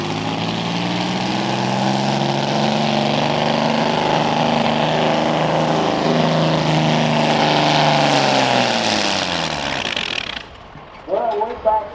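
A naturally aspirated diesel tractor at a Rockwell, Iowa tractor pull, its engine a loud, sustained roar that slowly shifts pitch for about ten seconds, then cuts off abruptly. Faint voices and crowd noise follow.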